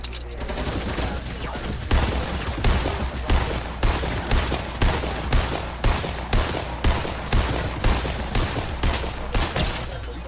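Rapid gunfire in a Fortnite match, a loud, dense barrage of repeated shots in fast bursts for about ten seconds, with no pauses long enough to be quiet.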